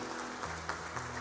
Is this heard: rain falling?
no